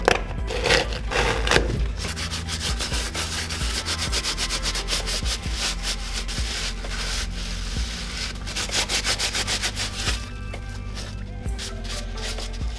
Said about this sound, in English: Now we're gonna clean the goo off of these bushings and this cap. I'm gonna be using some of these oil wipes.